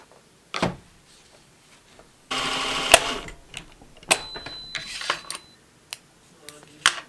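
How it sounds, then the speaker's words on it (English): A sewing machine stitches a pants seam in one short, rapid whirring burst, surrounded by scattered clicks and handling knocks in a quiet room. "I'm just gonna sew these up."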